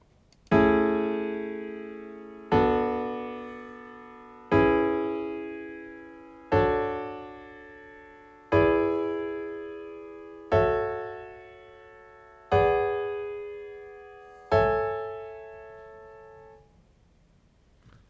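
Eight sustained harmonic chords in just intonation, each a four-note tetrachord struck cleanly at roughly two-second intervals and left to decay, played alone with no talking.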